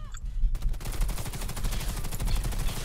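Rapid automatic gunfire from a weapon in the shooter game Warface, a dense, loud, steady burst of shots that runs almost the whole time after a brief lead-in.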